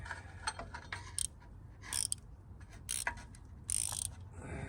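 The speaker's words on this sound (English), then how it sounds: "So we get a ratchet wrench on it." A ratchet wrench turning a bolt while pulling the 383 RB engine from a 1959 Chrysler Golden Lion, giving several bursts of rapid metallic clicking with pauses between them, close and fairly quiet, with no talking.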